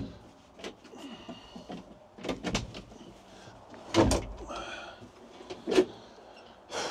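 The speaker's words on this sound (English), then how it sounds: "open the door first" A door on a Ford Steiger FW30 tractor is opened with a few sharp clunks and latch clicks, loudest near the four- and six-second marks, against a low background.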